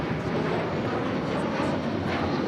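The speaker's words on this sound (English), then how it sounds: "This flight coming in from Morelia, flight 7780." A jet airliner on arrival at LAX, inbound from Morelia, roars as a steady broadband rumble, moderately distant and constant with no speech.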